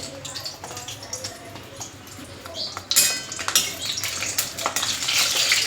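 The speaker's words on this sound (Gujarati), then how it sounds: "તેલ આવી ગયું છે, આપણે એમાં સૌપ્રથમ મરચાં તરી લઈશું" Green chillies go into hot oil in a kadai and begin frying, a close crackling sizzle that jumps sharply as they hit the oil and then keeps spitting and popping. Faint speech is heard earlier.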